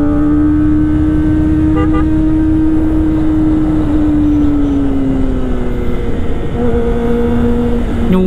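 A motorcycle riding along a road on the way to school, its engine a steady close drone whose pitch rises and falls with throttle, with no voices.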